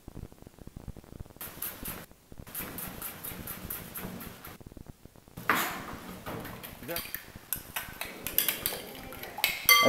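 Fresh coriander being chopped on a board, quick bursts of close, sharp knife taps in uneven runs with short pauses between them, a faint voice underneath.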